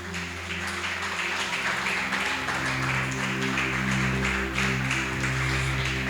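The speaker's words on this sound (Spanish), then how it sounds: "Dale mejor un aplauso al Espíritu Santo de Dios" A church congregation claps steadily in a broad, continuous wash, accompanied throughout by sustained low keyboard or organ chords.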